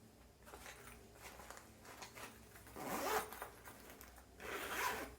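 A zipper on a child's pencil pouch is pulled open in a few rasping strokes, two longer louder zips standing out near and clear against a quiet room.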